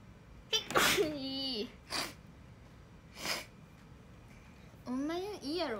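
A sharp, close sneeze, followed by a few short breathy bursts and a brief high-pitched vocal sound at the end.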